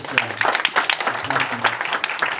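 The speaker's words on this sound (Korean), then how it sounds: "축사를 해주신 우리 세 분께 다시 한번 뜨거운 박수 드리겠습니다." An audience at an architecture forum held during the 51st Jeolla Arts Festival applauds, a brief patter of many hands clapping together at moderate distance.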